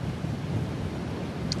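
Gusty wind buffets the microphone on a golf course during the final round of a LIV Golf Nashville event, a low rumbling roar that swells and eases without any voices.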